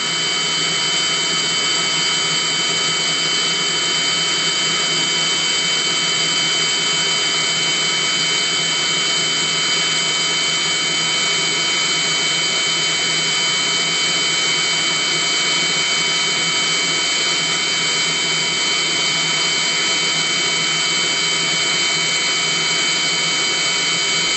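Steady whirring drone of a Webasto Thermo Top C/Z heater running in cool-down mode, a loud constant fan-like hum with no change across the whole stretch.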